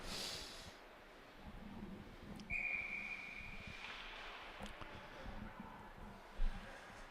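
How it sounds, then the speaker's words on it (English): A referee's whistle blows once in a sustained shrill tone over steady arena noise and crowd murmur at a youth U16 AAA ice hockey game, with a brief thump near the end. "A lot of whistles in this game."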